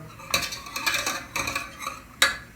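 A spoon scrapes and clinks against a pan as lasagna sauce with spices, pepper and tomato paste is stirred. Several separate metallic strokes sound close, with no talk.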